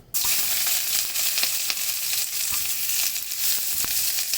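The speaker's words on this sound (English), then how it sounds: "Okay, pan is hot, oil smoking. I'm going to go in with the onions first." Onions hit hot, smoking oil in a pan, bursting into a loud, steady crackling sizzle right from the start, close up and with no talking.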